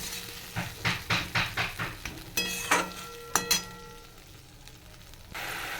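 Spices and tomato frying in a pan with bay leaf, cumin and whole garam masala, giving a series of regular stirring scrapes and clinks over a soft sizzle, then a few sharper metallic knocks.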